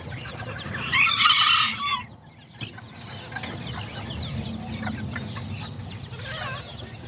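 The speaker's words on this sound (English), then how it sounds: "Right here I also got a bunch of like little roosters and little chickens" Aztecas hens and little roosters cluck in a farm pen. A loud, close burst of squawking or crowing rises for about a second, then softer, scattered clucking goes on steadily.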